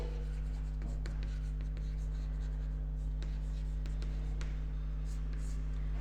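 Pen or marker writing on a board or paper during an accountancy class, with faint scratchy strokes and taps over a steady low electrical hum, no talk.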